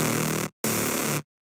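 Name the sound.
saw lead synth in FL Studio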